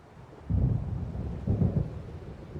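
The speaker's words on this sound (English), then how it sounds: "It seems there's a storm coming." Thunder from an approaching storm in the video game Alan Wake Remastered, heard as two deep, rolling rumbles about a second apart over a low, steady background.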